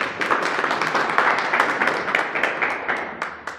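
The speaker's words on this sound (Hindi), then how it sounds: "एक बार शर्मा जी के लिए जोरदार तालियां।" An audience at a community meeting in Khajoori Khas breaks into steady applause for a speaker, a dense wash of many hands clapping at even loudness throughout, with no talking over it.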